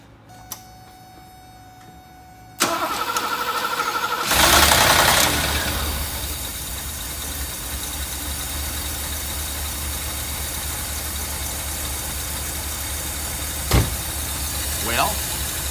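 A quiet, faintly ticking stretch, then the engine of a 1982 Mercedes 380SL with a newly installed timing tensioner cranks and catches with a loud surge, settling into a steady, even idle with a brief clunk near the end.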